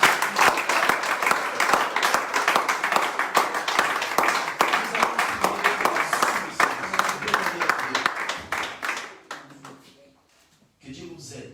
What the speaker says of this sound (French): Est-ce qu'on peut acclamer pour la parole?